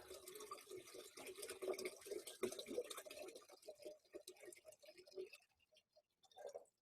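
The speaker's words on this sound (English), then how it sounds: "I'm just gonna pour them both in at the same time." Hot and cold water poured together into a container splashes and gurgles in a continuous close stream, then thins to a few trickles and drips before stopping.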